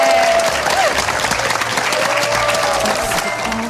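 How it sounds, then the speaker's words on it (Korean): A studio audience on a Korean TV bucket-list show gives loud, close, continuous applause, a dense even patter of many hands with a faint voice or two underneath. "이 용기를 내신 정아 씨에게 박수를 좀 보내죠"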